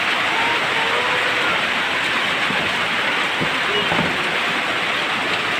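Dense, steady heavy rain roars on a nearby surface with no letup, a constant broadband wash from start to finish.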